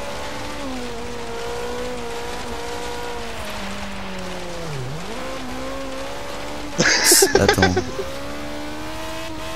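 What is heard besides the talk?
Renault 5 Turbo car engine in Forza Horizon 3 video game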